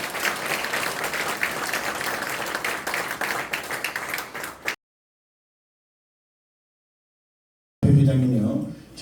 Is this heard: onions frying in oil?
no